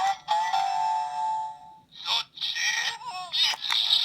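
Bright electronic chimes and warbling synthesized tones from a Ninninger ninja star toy, a sustained beep followed by a burst of shifting, jingly effects, close and fairly loud.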